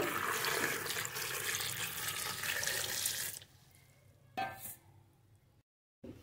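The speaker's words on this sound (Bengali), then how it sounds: "এবারে দিয়ে দেবো পরিমাণ মতো জল।" Water pours into a pressure cooker holding eggplant pieces and lentils: a loud, steady broadband gush for about three seconds, then stopping, with a brief splash and quiet after.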